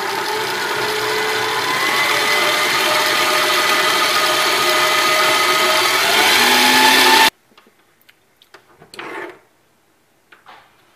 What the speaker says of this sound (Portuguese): E vamos continuar batendo na batedeira.